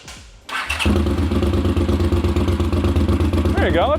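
A motorcycle fitted with a short exhaust and a Moto Gadget ignition cranks and fires up, then settles into a loud, close, lumpy idle rumble as a voice speaks over it.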